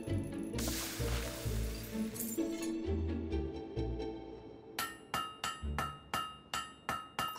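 A blade is hammered at the forge in Fable 3, a run of sharp, evenly spaced metallic strikes that grows into a quick rhythmic series of clangs after a low rumbling, scraping stretch.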